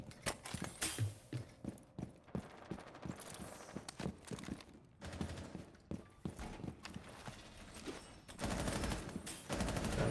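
Bursts of gunfire in the video game Rainbow Six Siege during a college esports match, quiet and somewhat distant shots mixed with footsteps and in-game clatter.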